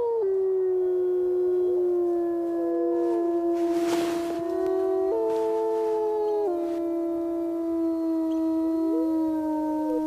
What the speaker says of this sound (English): wolves are so intelligent that they can communicate in complicated ways through their howls and body postures